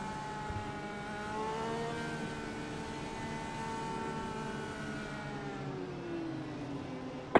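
An IndyCar in the iRacing simulation at the Motegi oval roars past with a steady, high engine whine whose pitch slides downward as it passes, fairly faint and without talk.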